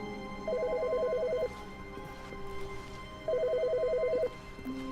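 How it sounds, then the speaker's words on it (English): A telephone rings in the video game The Stanley Parable, two long electronic ring bursts separated by a pause, loud and clear over quiet background hum. "Whose phone?"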